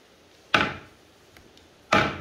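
Two solid thuds of a heavy Cretan katsouna walking stick made of prinos wood, set down on a hard tiled floor, about a second and a half apart, close and resonant.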